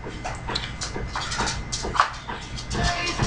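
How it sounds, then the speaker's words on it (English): A small dog whimpers and yips in short, soft bursts close by, mixed with rustling and handling noise and brief bits of a person's voice. "there's my dog"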